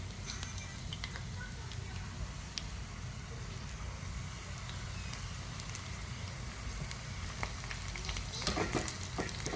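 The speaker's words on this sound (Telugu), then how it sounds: "ఆయిల్ కొంచెం హీట్ ఎక్కిన తర్వాత ఆ బాటర్ మిక్స్ చేసిన ఆనియన్ పిండి" Onion pakodi batter frying in hot oil, a steady dense sizzle that fills the whole stretch, swelling slightly near the end with a few sharper crackles.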